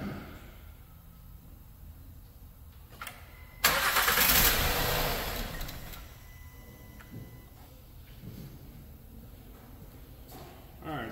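A Honda Pilot 3.5 engine cranks briefly during a compression test, giving a sudden loud burst of cranking and engine noise that fades over a couple of seconds, with quieter clicks and workshop sounds before and after.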